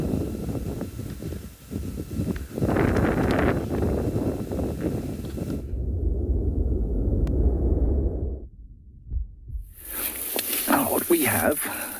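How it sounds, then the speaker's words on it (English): Strong wind buffets the microphone outdoors in the African bush, giving a rough, gusty roar that cuts out and returns in bursts, with people talking throughout. "But it's obviously very windy."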